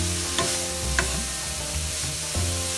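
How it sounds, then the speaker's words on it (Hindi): Shredded cabbage and carom seeds being mixed in a pan for cabbage paratha, a steady stirring and scraping sizzle with a few faint clinks, continuous and close, no talking. "तो अच्छा से मिक्स कर लेते हैं"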